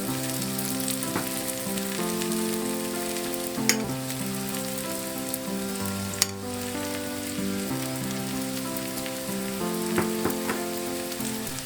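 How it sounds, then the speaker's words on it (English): Breaded pork chops fry steadily in a pan on a boat, with a dense continuous sizzle and crackle and a few sharper pops, without any talk. "Fry for 2 minutes for this thickness of chop."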